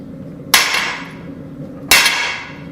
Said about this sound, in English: I'm just drifting this eye out, and I'm using my my punch that I have on the handle